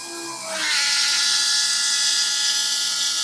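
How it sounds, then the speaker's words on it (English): Electric fuel pump on a 1980 BMW 528i, rigged with a fuel pressure gauge, switches on and settles into a steady high-pitched electric whine that holds loud and constant, with no talking. "Let's flip the fuel pump on and listen."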